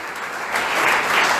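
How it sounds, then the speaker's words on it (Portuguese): Congregation clapping in a church service, a brief burst of applause that swells louder partway through and stays dense to the end. "Vamos dar uma salva de palmas para o nosso Deus."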